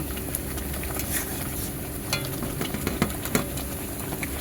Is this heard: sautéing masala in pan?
yes